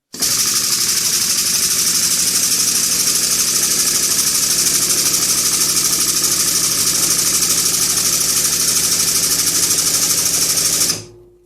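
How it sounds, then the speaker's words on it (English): An air compressor drives an air-operated hydraulic jack on a 20-ton garage press, giving a loud, steady mechanical drone with a rhythmic pulse that runs alone and then cuts off abruptly near the end. "your compressor does the hard work for you"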